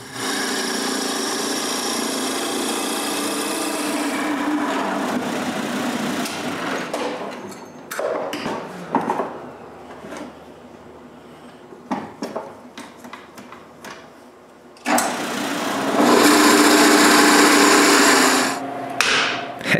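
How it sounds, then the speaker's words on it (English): A drill bores big holes into wooden blocks, with loud sustained drilling at the start and end and scattered knocks and scrapes of handling between. "Next, I drill a big hole in each corner."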